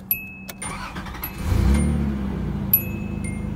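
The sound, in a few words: 1986 Nissan 300ZX Z31 engine starting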